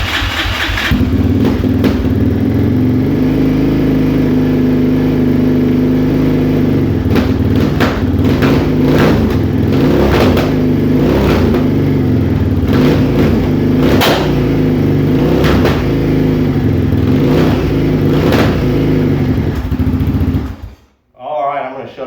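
A Yamaha Raptor 660R ATV engine running loud and close, a steady rough idle broken by repeated throttle blips and revs, cutting out abruptly near the end.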